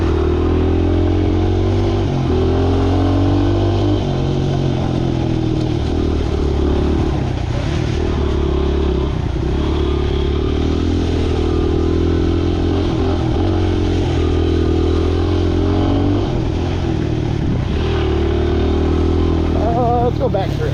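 Motorcycle engine running steadily while riding a curvy dirt trail with quad berms, a low droning hum with slight revs and rises throughout, close and continuous, with wind and clatter mixed in.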